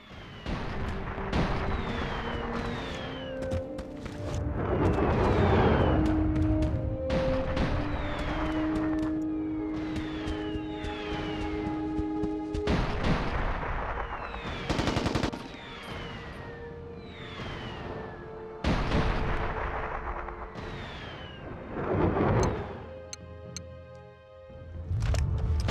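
Artillery shells pound targets in the game Mercenaries: Playground of Destruction, with repeated loud booming impacts and broad explosive rumbles spread over the stretch, mixed with wailing siren-like tones and no talking.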